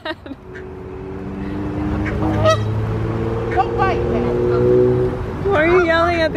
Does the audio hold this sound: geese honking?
yes